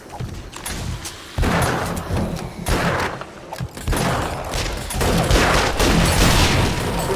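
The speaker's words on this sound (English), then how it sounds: "I got scared and shot off a rocket" Game explosions and weapon fire from 7 Days to Die, with a rocket launched amid a dense, loud run of booming blasts and gunfire over several seconds.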